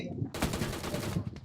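Rapid bursts of gunfire in the video game PUBG New State, a fast rattling volley that fills most of the moment, with an excited voice shouting over it.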